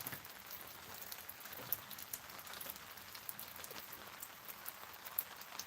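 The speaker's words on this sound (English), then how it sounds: "It's definitely a rainy Saturday." Steady rain patters on a surface close by, a dense hiss with scattered louder drops and no voices.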